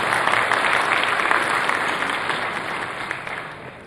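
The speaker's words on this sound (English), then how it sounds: "Can we have a round of applause for Professor Jason" Audience at an academic computing conference applauds steadily, a dense continuous wash of many hands clapping that fades slightly toward the end.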